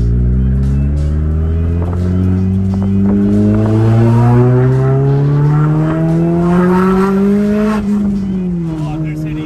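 Turbocharged Honda Civic Si making over 700 hp accelerates hard, its engine rising steadily in pitch through a long gear, dipping at a shift, then climbing again. The sound is loud and close, with voices underneath.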